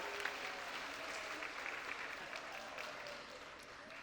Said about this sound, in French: Un petit applaudissement pour eux